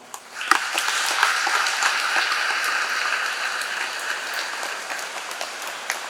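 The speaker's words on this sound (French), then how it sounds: "nous le prions très respectueusement de se lever sous nos applaudissements" Audience applause rises sharply and holds as a steady, dense wash of clapping at a fortieth-anniversary prayer group celebration, welcoming someone asked to stand, fairly loud and continuous throughout.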